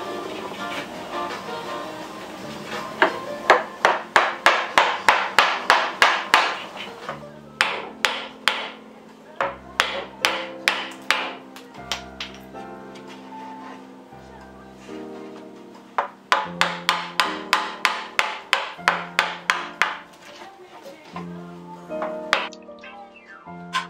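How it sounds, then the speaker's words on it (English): Sharp, hard strikes ring out in quick rhythmic bursts with short pauses between, close and fairly loud, as a bamboo cane culm is split into strips for a split-cane fly rod; no voices. "I keep on splitting the culm in half until I get 8 strips out of half of the comb"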